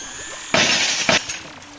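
A drinking glass on the edge of a table shatters in an old-time radio drama effect, a loud sharp crash with scattering fragments and a second smaller burst of breaking shards following closely.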